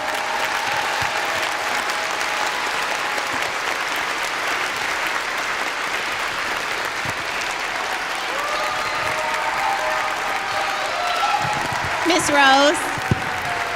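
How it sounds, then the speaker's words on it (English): An audience at a school winter concert for third through fifth graders gives a long round of applause for the music teacher, dense steady clapping under a speaker's amplified voice, with another voice rising near the end. "So please give her a huge round of applause"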